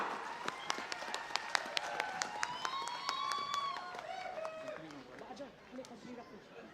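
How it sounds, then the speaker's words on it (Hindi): At a public meeting on a field, a crowd claps in sharp, spaced bursts while voices and cheering rise over it, the clapping thinning out toward the end amid chatter. "जोरदार तालियों के साथ स्वागत कीजिए"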